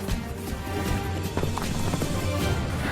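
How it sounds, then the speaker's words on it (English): Horses approaching at a run across a field, a dense rapid clopping of hooves that stays steady and fairly loud throughout, mixed with rustling, with no talk over it. "all of a sudden the horses, I could hear them coming"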